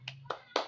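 Three crisp, close hand claps, evenly spaced, from a teacher leading a fire-brigade clapping game for toddlers, over a faint low hum.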